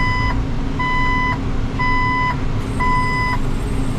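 Reverse beeper on a farm vehicle working a canola field, four evenly spaced electronic beeps over a loud, steady engine rumble.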